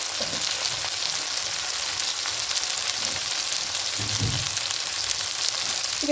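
A spice paste with turmeric and salt fries in a pan, giving a continuous soft sizzle under occasional low stirring bumps, fairly quiet and even throughout.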